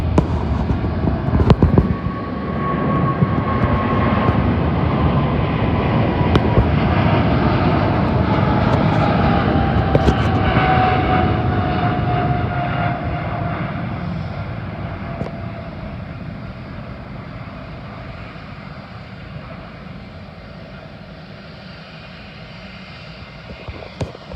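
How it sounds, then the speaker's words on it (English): An American Airlines Boeing 777 takes off at Heathrow Airport, a loud jet engine roar that builds, holds steady and then slowly fades as the aircraft climbs away. "Now we have American Airlines 777 taking off to Los Angeles."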